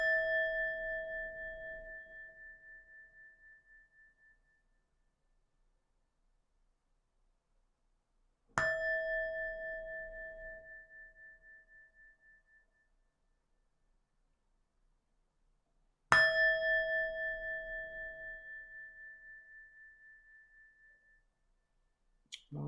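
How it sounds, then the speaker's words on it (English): A metal singing bowl is struck three times, several seconds apart; each strike gives a clear bright ring that slowly fades in a quiet room. "I don't know what it is about that singing bowl"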